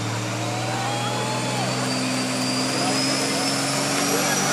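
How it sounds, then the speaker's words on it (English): A truck's turbo whines during a truck pull competition: a steady, high-pitched whistle rides over the deep, constant roar of the straining engine for the full few seconds. "Listen to the turbo."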